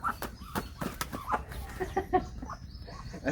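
Chickens cluck in short, scattered bursts against background rustling and noise, with a few brief higher calls mixed in, moderately near, alongside ducks.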